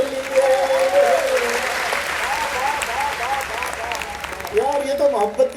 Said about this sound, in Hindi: बजाइए तालियां सब लोग